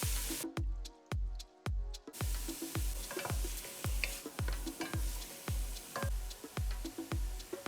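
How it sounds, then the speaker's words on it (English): Onion, celery, carrots and garlic sauteing in olive oil in a pot for minestrone, with steady sizzling broken by regular, rhythmic stirring scrapes, close and fairly loud, about a dozen strokes with no talking. "We'll add in our onion, celery, carrots, and garlic all into the pot."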